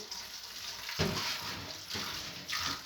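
Lukewarm tap water runs steadily for thawing frozen vegetables such as green beans, peas or a mixed pack, a close continuous hissing stream that swells near the one-second mark and again toward the end.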